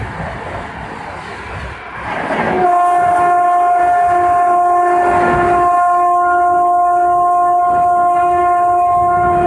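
The Seemanchal Express sounds a long, steady, loud horn that starts a few seconds in and holds to the end, over the rumble of the moving train, with no speech.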